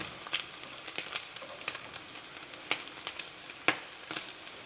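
A taco shell with breakfast fillings frying in oil, giving a faint, close crackle of scattered pops and spits over a soft hiss, with no voices.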